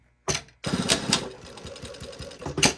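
A home sewing machine stitching a seam on a garment: a short burst, a brief stop, then a loud, close, steady whirring run of rapid needle strokes.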